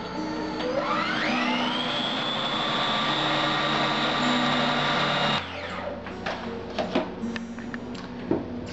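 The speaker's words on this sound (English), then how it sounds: "We process it for maybe 30 seconds to a minute to make sure that it's the consistency we want." Food processor pureeing cilantro pesto: a loud, steady motor whir that spins up and holds for several seconds, then cuts off, followed by clattering knocks of the bowl and lid.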